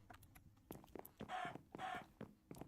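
A chicken in the Minecraft GregTech New Horizons modpack clucks in short bursts, with game ambience and a pair of longer hissing steam-like noises between the clucks, all at low level.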